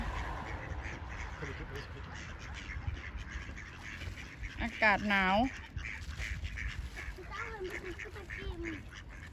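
Ducks on cold water edged with ice quack outdoors, with a burst of loud, close quacking midway and softer calls after, while people talk over the scene.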